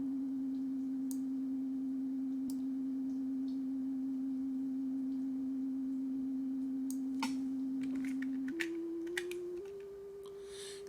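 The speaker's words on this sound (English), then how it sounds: "So I'm using a sine wave because it's very gentle." Gentle synthesizer sine wave under control-voltage frequency modulation, holding a steady tone that then steps upward in pitch over the last few seconds, with sparse faint keyboard-like clicks in the background.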